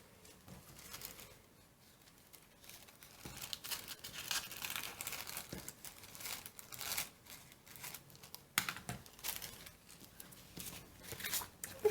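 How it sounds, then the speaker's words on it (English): Excess paper is trimmed off a craft page in a continuous run of crinkling, rustling and scissor-like snips, close and fairly quiet, with irregular bursts throughout. "we're going to trim off the excess"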